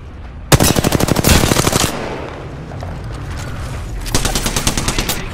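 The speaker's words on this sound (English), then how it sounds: "I am taking fire" Rapid automatic gunfire from the Apex Legends battle royale game rattles loud and close in a long burst, then a pause with lingering echo, and another volley toward the end.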